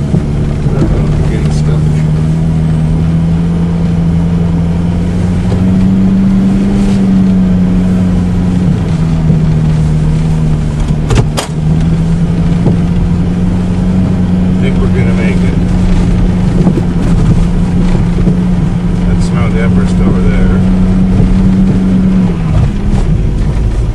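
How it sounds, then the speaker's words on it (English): A car engine idles after a cold start on a snowy February winter day, a loud steady low rumble with a brief rev, close up and continuous throughout, with voices talking over it at times. "that's going to be one hell of a cold start"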